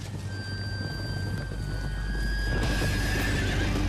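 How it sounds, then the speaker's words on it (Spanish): Horses whinny in a high, drawn-out call over a low rumble, with a busier burst of hoof and movement noise near the end, fairly quiet overall. "Tranquilos, son caballos."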